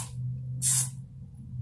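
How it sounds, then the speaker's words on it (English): Hair spray hissing in one brief burst from an aerosol can onto a styled wig during a photoshoot, over a low steady hum. "Take the spray."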